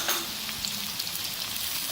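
Onion, garlic and ginger fry together in a pan, giving a steady, close hiss of sizzling oil that runs unbroken for the whole stretch at a moderate level, with no voices.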